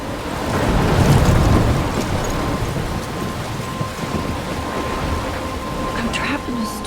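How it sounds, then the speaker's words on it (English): A thunderstorm rages in the video game Life Is Strange, with heavy rain hissing loudly and steadily and a rumble of thunder near the start; a voice speaks over the storm. "I'm trapped in a storm?"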